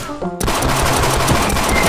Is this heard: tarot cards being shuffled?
no